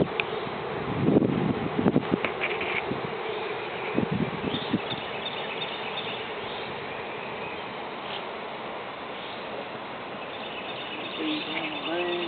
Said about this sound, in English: I guess they got the entrance clogged up with all them bees.